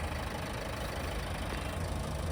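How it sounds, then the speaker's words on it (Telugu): A 2017 Ford EcoSport Titanium diesel engine idles steadily with a low, even rumble throughout, no voices present. "ఇంజన్ మాత్రం సైలెంట్ ఉందండి"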